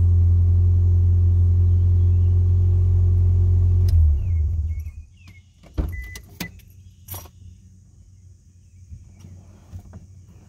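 A 2005 Scion xB engine runs with a loud, steady low idle rumble for about four seconds after a fuel pump replacement, then shuts off. Scattered quiet clicks and handling noises follow.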